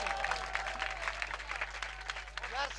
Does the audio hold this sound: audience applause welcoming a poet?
yes